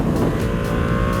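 A Ducati Panigale V2 twin-cylinder sport motorcycle revs hard and close, a dense, steady engine roar that fills the moment without any voices.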